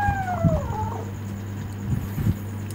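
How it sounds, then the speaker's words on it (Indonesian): A cat in the zombie survival game Undawn lets out a single drawn-out meow with a falling pitch, set against a steady low hum and a few soft thumps. "Wah, diintip kucing lagi nih."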